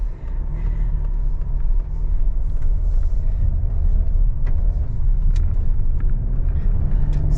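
A car rolls forward along a steep, narrow mountain road on the Kolob Terrace, its engine and tyres giving a steady, close rumble throughout with no talk.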